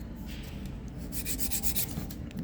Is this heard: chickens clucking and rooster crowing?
no